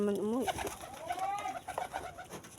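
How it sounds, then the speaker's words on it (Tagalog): Pigeons coo in a close, warbling burst near the start, followed by fainter throaty coos and rustling from a flock of homing pigeons, including the oldest bird of the loft. "Ito yung pinakamatanda sa lahat ng mga kalapati ko."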